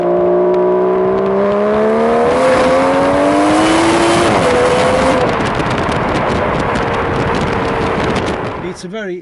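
Aston Martin DB11 engine, a vocal turbocharged unit, revving up with rising harmonic pitch sweeps that climb, dip and settle into a steady loud drone, heard from inside under continuous talk.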